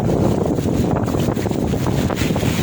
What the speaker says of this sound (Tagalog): Ay, nalakas pa ang hangin.